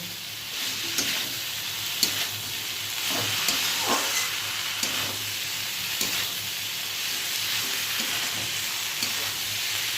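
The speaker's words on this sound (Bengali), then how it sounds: "ভালো করে মশলার সাথে ভেন্ডিটাকে মিশিয়ে নেব" Fried okra being tossed with cooked masala in a pan gives a steady close sizzle, with soft scraping stirs and occasional spoon clicks running throughout.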